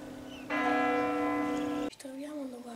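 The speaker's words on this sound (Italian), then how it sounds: "abbiamo ascoltato la distesa delle quattro campane maggiori della Basilica" The four largest bells of the Basilica of San Gaudenzio in Novara ring out together, a loud, sustained hum that cuts off, followed by another ringing tone.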